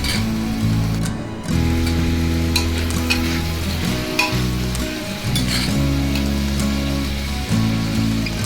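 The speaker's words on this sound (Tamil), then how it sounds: "வெஜிடபிள் சேர்த்துடலாம் நல்லா வெங்காயம் இஞ்சி பூண்டு கூட அதுக்கு சேர்த்து கலந்து விட்டுடலாம்" Onion, ginger, garlic and vegetables sizzle steadily in a frying pan while a spoon scrapes and stirs them in repeated strokes, loud and close with no talking.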